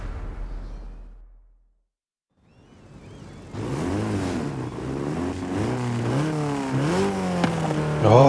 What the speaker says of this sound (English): it's the new Renault Gordini from year 1967